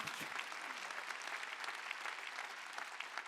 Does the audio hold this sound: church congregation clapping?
yes